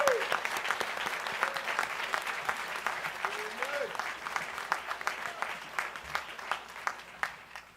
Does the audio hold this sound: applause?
yes